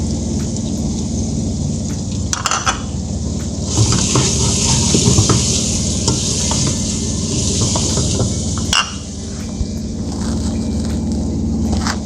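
A little water poured into a hot pot of frying spices (red chili, turmeric, salt and dried coriander) for goat trotters paya, giving a loud, close, steady sizzling hiss that surges in the middle, with scattered crackles.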